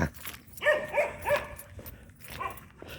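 Three bright, yappy barks from a nearby collie come in quick succession, followed by quieter, fainter yelps.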